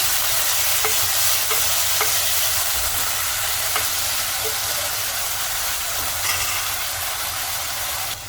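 Potatoes stir-fried in oil for aloo methi sizzle loudly and steadily, with faint stirring clicks scattered through and no talk.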